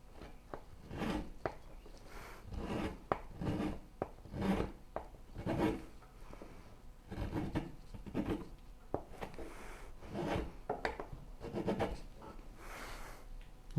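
A bow saw blade, braced against a belly, scrapes shavings off a curved wood piece in repeated rough rasping strokes, close and fairly quiet, with a rhythmic push-pull pattern and no talk.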